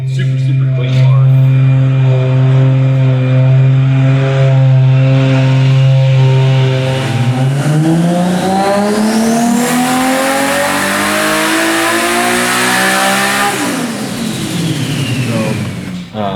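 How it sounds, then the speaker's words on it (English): Toyota Supra on a dyno, its engine holding a steady idle-like drone before climbing hard through a long rising rev and then dropping off, loud and close. "a rare sight, which is a Supra on the dyno here"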